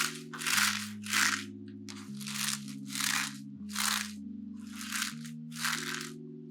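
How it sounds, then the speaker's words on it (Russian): Salted, shredded white cabbage kneaded by hand for a cooking recipe gives a steady series of about nine wet, crunchy squeezes roughly every 0.6 seconds, close up, over soft background music. "Обминаем ее руками, чтобы она стала более мягкой и немного пустила сок."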